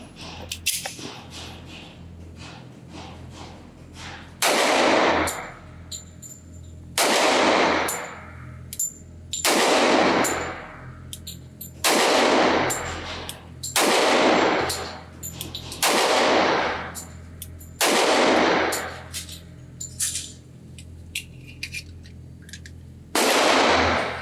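A Smith & Wesson SW1911ES pistol fires +P hollow point rounds at a shooting range, about eight loud, sharp, close reports spaced a couple of seconds apart.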